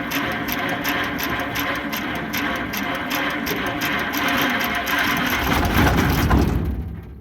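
An old forgotten antique combine engine being cranked, a steady rough mechanical churn with rapid repeated ticking that builds louder toward the end, then cuts off abruptly.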